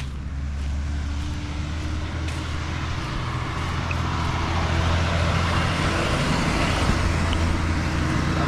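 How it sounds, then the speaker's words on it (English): Steady road noise from vehicles on the main road between Migori and Nyabohanse, a continuous low engine rumble and tyre hiss that grows a little louder in the second half. "This is the main road, and it's coming from Migori to Nyabohanse"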